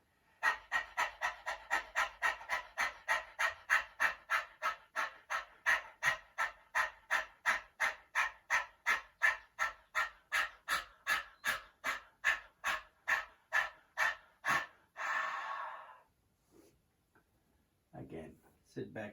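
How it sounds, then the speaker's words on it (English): A person does Kukkariya pranayama, panting rapidly and rhythmically through the mouth with tongue out, dozens of quick, even breaths in a steady series, then stops with a longer exhale. "breathing in and then tongue out and following our panting breath"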